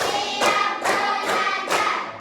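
Several claps in a slow, even rhythm, with about four sharp hand claps spaced roughly half a second apart, moderately close.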